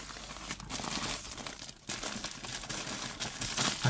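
A plastic bag crinkles and rustles as an item is folded into it and packed into a box, giving irregular close crackles with brief pauses.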